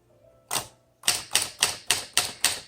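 Keys strike on a 1954 Smith Corona Skyriter portable travel typewriter, a budget machine with poorly advancing paper: one isolated clack, then a steady run of six sharp, evenly spaced strokes, close and loud with no voices.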